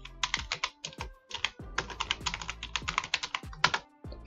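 A computer keyboard clatters under rapid typing, with dense bursts of crisp, close keystrokes and brief pauses between words.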